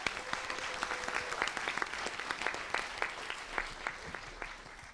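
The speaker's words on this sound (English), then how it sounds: "So please, one big applause for our great team to making this possible." Audience applause for a team at a general assembly council meeting, fairly quiet but steady clapping with distinct individual claps audible throughout, carrying on for about five seconds.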